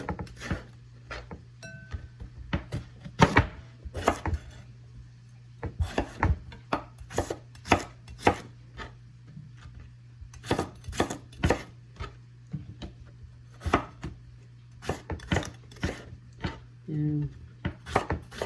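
A knife chops washed eggplant (talong) on a cutting board in irregular bursts of sharp, close taps, with short pauses between runs and a quiet voice speaking now and then.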